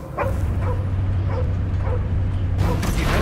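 Barking from a dog in the video game Marvel's Guardians of the Galaxy, set during an escape from Knowhere: several short sharp yips and barks at a steady rhythm, loud over a constant low rumbling game background.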